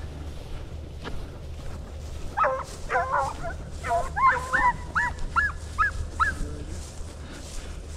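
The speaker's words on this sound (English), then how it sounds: "Them dogs right in there." Hunting hounds chasing a deer bay and bark in a rapid string of yelps at middle distance, over wind and outdoor background noise.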